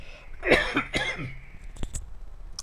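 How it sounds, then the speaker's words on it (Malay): A loud, close cough, rough and throaty, followed by a few faint clicks and handling noises. "Batuk kuat lah."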